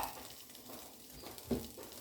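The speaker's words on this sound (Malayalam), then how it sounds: "പാൻ അടുപ്പത്ത് വെച്ചിട്ടുണ്ട്. നമുക്കതിലേക്ക് ഉരുളക്കിഴങ്ങ് ഇട്ട് കൊടുക്കാം." Potatoes and chopped onion frying in a pan on the stove give a steady, soft sizzle, with a single brief scrape or clatter partway through.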